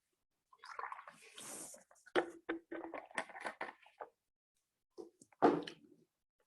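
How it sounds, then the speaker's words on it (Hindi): Someone drinks water right beside the microphone: close, wet gulps and swallows in a short irregular burst, a pause, then a final slurp and breath. "1 मिनट में पानी पी लिया थोड़ा"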